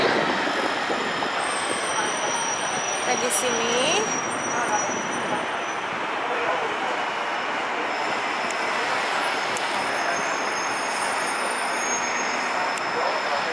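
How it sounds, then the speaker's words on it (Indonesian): A driverless people-mover train hums and rolls steadily with a high wheel squeal, while a voice speaks briefly early on. "kita akan naik namanya Metro Mover Yaitu kereta yang tanpa supir"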